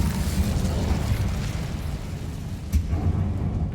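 A fiery Incendio spell blast in Hogwarts Legacy, a loud, low, rumbling roar of flame that swells steadily, with a sharp burst near the end.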